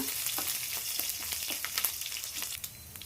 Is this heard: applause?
no